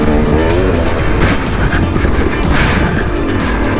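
A KTM motorcycle is ridden hard with its front end pushing and washing out, and its loud engine roars continuously and close-up, rising and falling with throttle, with no voices.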